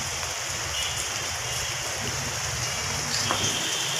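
Rain falling outdoors during a spring shower near a garden, a steady dense hiss of drops, even and unbroken, with no one speaking.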